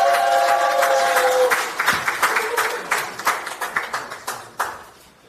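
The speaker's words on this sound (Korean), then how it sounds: "큰 박수 부탁드리겠습니다." An audience at a political meeting in Busan on the Fukushima water issue applauds, first a sustained wash of clapping that then breaks into scattered, separate claps and dies away.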